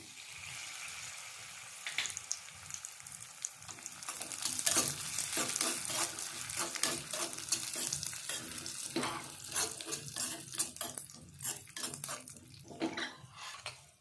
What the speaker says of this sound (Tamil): திராட்சையும் போட்டு அதில் வறுத்துக்கலாம்.